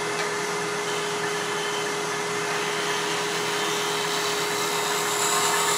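A round nose scraper shears across the bottom of a wooden coffee scoop on a spinning wood lathe, giving a steady loud whirring hiss with a constant motor whine throughout.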